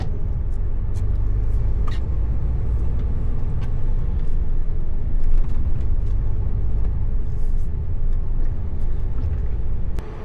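An articulated lorry drives underneath a motorway, giving a steady, heavy low engine rumble and road roar that fills the whole stretch, with a brief hiss like an air brake.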